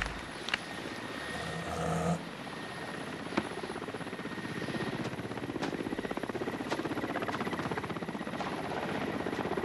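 Helicopter rotor chop pulsing steadily overhead while hovering above an aggressive Siberian (Amur) tigress in the wild, fairly loud and continuous throughout with a brief thump early on.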